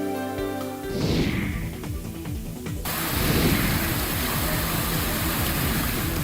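Kundakho waterfall in the Shahabad valleys of Baran district, swollen after heavy rain and dropping about 400 feet, gives a loud, steady roaring rush that fills the second half after a few brief tonal sounds.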